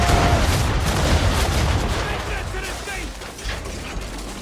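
Broadside of ship cannons firing in Assassin's Creed III, heavy booming blasts and rumbling over continuous sea and ship ambience, loud at the start and then receding into scattered lighter reports and creaking.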